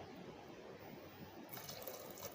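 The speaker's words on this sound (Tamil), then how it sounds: "தேவையான அவ்வளவு தண்ணி ஊற்றிடலாங்க." Water runs steadily into a cooker pot of drumstick sambar with a continuous splashing rush that grows louder and brighter partway through.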